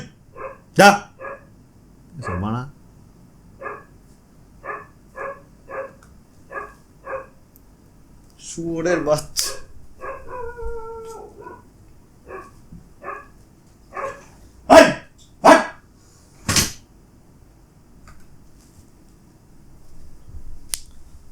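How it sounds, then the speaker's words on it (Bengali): A neighbour's dog barks repeatedly in sharp, fairly close bursts with a few higher yips, spaced irregularly over a quiet background, and a voice cuts in briefly. "যখনই ভিডিও বানাবো তখনই ভাই পাশের বাড়ি কুত্তা ভেবো করে মানে পাশের বাড়ির লোকের কুকুর ওটা"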